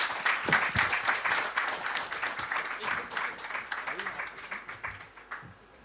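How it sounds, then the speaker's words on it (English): A conference audience gives a long round of applause for the speakers at a sports textile industry event, dense clapping that gradually thins and softens over several seconds. "Let's give a huge round of applause to all the speakers."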